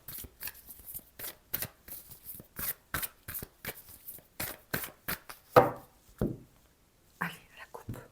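Tarot cards shuffled and then cut, a run of quick, crisp riffling bursts in a steady rhythm close by, ending with a few softer slaps and handling sounds.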